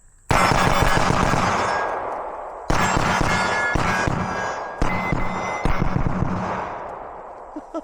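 Loud close gunfire from an SST Platypus 2011 pistol: strings of rapid shots with echoing ringing tails, in roughly four bursts, and no talking.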